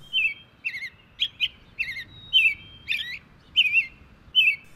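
An American robin sings near Niagara Falls in clear, bright whistled phrases. Roughly nine short caroling notes come in a steady rhythm with brief pauses between them, over faint outdoor background noise.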